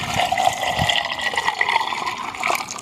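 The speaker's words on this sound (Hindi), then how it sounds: "आधा किलो हमने दूध डाल दिया है।" Milk pouring into a sabudana milkshake at a Pakistani street juice stall, a continuous loud splashing liquid rush with bubbling, steady for a few seconds, no voices.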